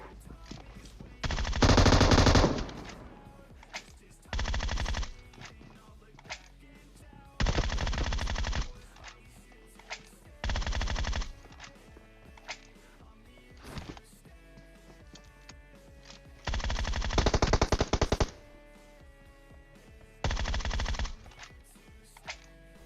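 Automatic gunfire in the game PUBG Mobile rattles out in several loud bursts of rapid shots separated by short pauses, with quieter game sounds in between.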